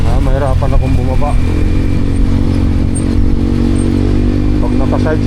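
A motorcycle carrying cargo on the back rides along with a constant, loud engine drone and rattling hum, while someone talks over it.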